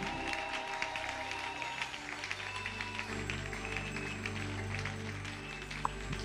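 Church congregation acclaiming the Lord with sustained applause and crowd noise, a broad steady roar of clapping and cheering that continues throughout, with faint voices mixed in.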